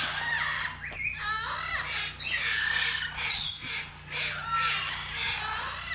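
Birds in outdoor aviaries at a bird sanctuary squawk loudly and almost without pause, with overlapping harsh calls over a low steady hum.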